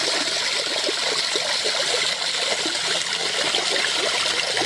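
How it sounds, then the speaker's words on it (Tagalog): Water flowing steadily from a spring into a river, a continuous broadband rush and trickle at constant level with no other sounds. "patuloy na pag-agos ng tubig mula sa bukal at ilog"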